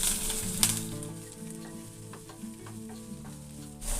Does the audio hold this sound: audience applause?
no